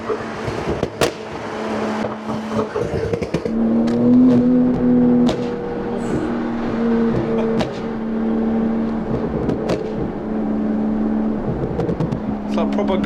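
A tuned 1100 bhp Porsche 992 Turbo revs hard up close, its loud exhaust cracking and popping in sharp bursts between a sustained engine drone, with occupants talking over it.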